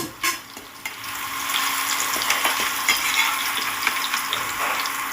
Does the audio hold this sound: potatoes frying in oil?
yes